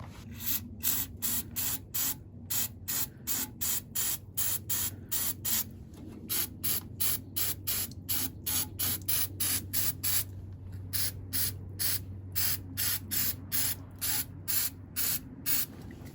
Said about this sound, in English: I really want to take this thing outside and just hit it with some carb cleaner to get it nice and clean.